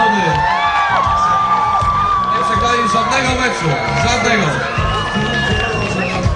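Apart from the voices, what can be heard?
crowd applauding and cheering for football team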